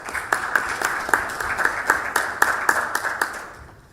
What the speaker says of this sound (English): I'll just suggest that we give a big applause